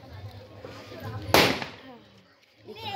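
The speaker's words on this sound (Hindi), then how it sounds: "कितना खुशी से सब लोग फटाका उड़ा रहे हैं" A single sharp firecracker bang goes off during Diwali celebrations set off by children outdoors, one loud burst with a short decay, heard amid background chatter and a speaking voice.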